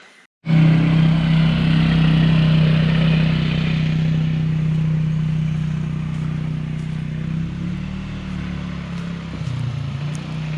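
Polaris Sportsman 300 ATV engine starts up and runs with a loud, steady droning note close by, the level slowly easing off over about ten seconds, with no talking.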